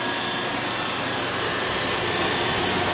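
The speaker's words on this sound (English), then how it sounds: "basic air-cooled condenser here, blowing the hot air out to the side of the unit and the fan. And that's our little compressor" A Turmoil 1/2 ton air-cooled chiller, model OCN-50R, 208/230V, runs with its condenser fan and small compressor, giving a steady, loud broadband whoosh with a constant hum, close by and alone.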